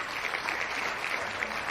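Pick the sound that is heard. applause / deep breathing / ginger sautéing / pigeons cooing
applause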